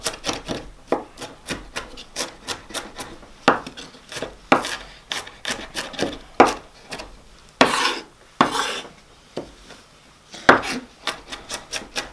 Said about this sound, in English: Give it a nice rough chop too